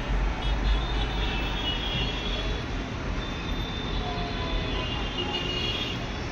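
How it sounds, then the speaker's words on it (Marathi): Metro rail line construction work near a home garden produces a loud, steady mechanical roar and rumble that continues without a break. "हे मेट्रोचं काम चालू आहे."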